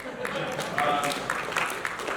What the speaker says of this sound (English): That's right, you can applaud.